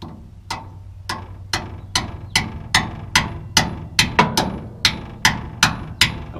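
Repeated hammer blows on a broken wobble box bolt on a New Holland 474 haybine, about a dozen sharp metallic strikes in a steady rhythm, close and loud, no talking.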